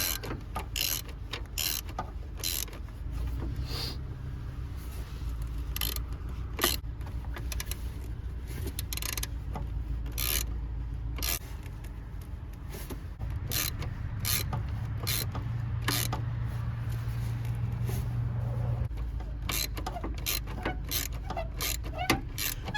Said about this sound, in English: All right, let's tension up this belt some.